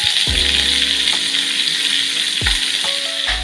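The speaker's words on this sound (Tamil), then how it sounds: "நான் மேக்னேட் பண்ணி வச்சுருந்த நண்டை வந்து இது எல்லாத்துலேயுமே ஒன்று ஒன்றா போட்டு லோ ஃப்ளேமில் ஃப்ரை பண்ணி எடுத்துக்கிறேன்" Marinated crab pieces fry over a low flame in a pan with a loud, constant, close sizzle, and a few soft clinks and knocks of utensils sound through it.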